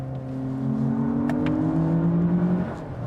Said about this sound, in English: And then there's the sound of this engine. It is an augmented sound